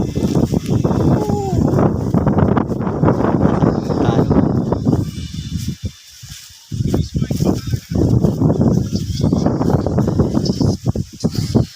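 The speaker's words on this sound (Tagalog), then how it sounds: "sobrang hangin" Strong wind on a hilltop roars and buffets the microphone almost constantly, with a brief lull midway, while people talk underneath.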